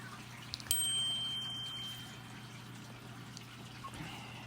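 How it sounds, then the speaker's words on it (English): A mobile phone notification chime rings out once, a short bright tone with a lingering ring that fades over a second, over a quiet room with a steady low hum. "hang on, gotta silence my phone"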